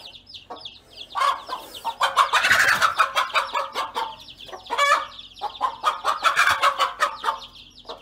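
Mother hen clucking to her chicks at close range, loud bursts of rapid clucks broken by brief pauses, with thin high peeps mixed in.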